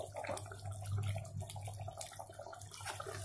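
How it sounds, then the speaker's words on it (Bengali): A cup of hot water poured into a pan of spicy chicken curry, a quiet watery splash and gurgle over a low hum, faint and brief with no talk. "1 কাপ গরম পানি দিয়ে দিচ্ছি।"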